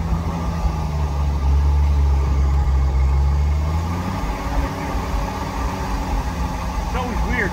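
A 1978 Jeep CJ7 engine rumbles low and loud, then the pitch shifts as it pulls away, the drone carrying on under talk inside the vehicle.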